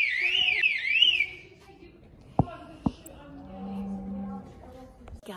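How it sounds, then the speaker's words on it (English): A car alarm wails with a rising and falling warble for about a second, then stops. Two sharp thumps and a low hum follow. "The alarm's going."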